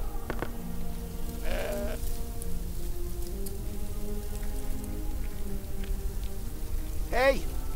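A goat bleats once in the video game Deponia Doomsday, a short wavering cry near the end, over steady rain-like background noise and low voice-like tones.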